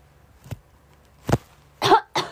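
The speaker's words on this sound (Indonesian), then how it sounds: "Batuk." A few separate coughs, close and fairly loud, spaced irregularly: two short single coughs followed by a heavier double cough near the end, against a quiet background.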